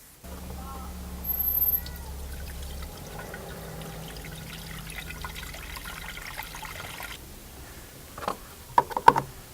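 Water poured from a bottle into the cooling system of a 2000s Ford Focus 1.6 Mk1 makes a soft, continuous trickle with a low hum beneath it, followed near the end by a few sharp knocks.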